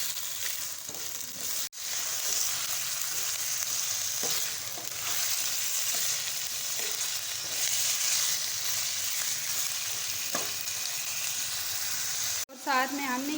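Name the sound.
mutton frying in a pan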